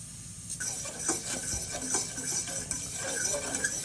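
Milk sweetened with sugar coming to a boil in a pot, with a steady bubbling sizzle and occasional clinks of a spoon or utensil against the pan, no talking.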